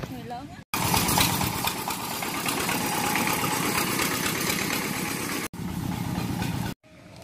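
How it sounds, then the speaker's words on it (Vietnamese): A motorbike engine runs steadily at idle, loud and close, in a rural countryside setting, with brief cutouts near the start and end, while people talk over it. "Vậy thì thôi mình đi xe máy."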